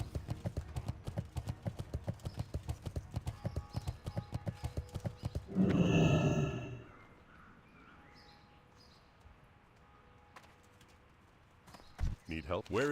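A mount's rapid hoofbeats clip-clop steadily in World of Warcraft, then a loud horse whinny bursts out before the galloping drops away to quiet ambience.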